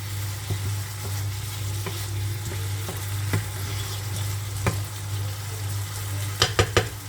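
Food with plenty of lemon sizzling in a frying pan, a soft steady sizzle under a low hum, punctuated by utensil taps and a quick run of sharp clinks near the end.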